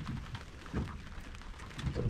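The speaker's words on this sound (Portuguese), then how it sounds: "E chovendo." Rain falls steadily during a river fishing trip, a soft even hiss with a few slightly heavier patches, fairly faint and heard alone without talk.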